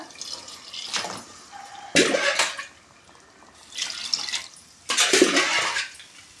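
Six glasses of water poured in distinct bursts, splashing into a pot of rice for egg biryani, with short pauses between pours, close to the listener.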